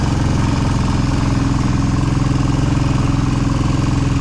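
A quad bike engine runs loud and close with a steady throbbing drone, held at high revs the whole time.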